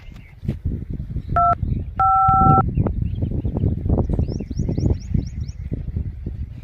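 Phone being dialed: a few distinct two-tone keypad beeps in quick succession, heard over rustling and handling noise, with faint bird chirps later.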